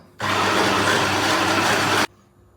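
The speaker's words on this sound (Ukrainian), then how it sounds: "Тепер перебиваємо блендером, ну я думаю, не менше 5 хвилин до утворення однорідної маси" An electric blender whirs loudly and steadily for about two seconds, blending a banana ice cream mixture, then cuts off abruptly to near silence.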